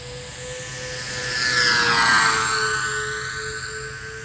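A Dynam E-2C Hawkeye RC model airplane flies past, its whining electric motors rising to a near, loud peak mid-pass with a Doppler pitch drop, then fading.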